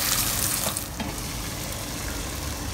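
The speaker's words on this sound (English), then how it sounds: "I'm just going to fry the other piece now." Loud, steady sizzling of fish pieces frying in a hot pan, a dense crackling hiss with no voices.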